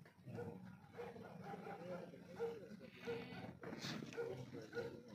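Goats on a farm bleat in short repeated calls, several sharp cries spaced through the clip, heard close under steady talking.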